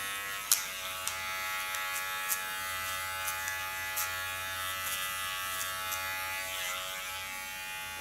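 An electric clipper hums steadily and close while shaving the side and nape of the head for a disconnected asymmetric hairstyle, with a few light clicks and taps over the buzz and no speech.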